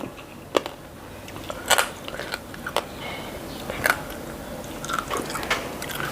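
Crunchy biting and chewing of Thai bamboo shoot curry with yanang leaves and makhwaen pepper, eaten alongside chili shrimp paste dip, boiled vegetables and boiled eggs; repeated close, sharp crunches spaced irregularly over a quiet background, no talking.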